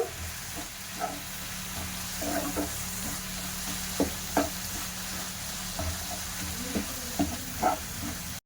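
Carrot filling with a packet of Amul milk stirred in a pan, with steady soft sizzling under repeated scraping stir strokes for the carrot-stuffed puli pitha, close and fairly quiet.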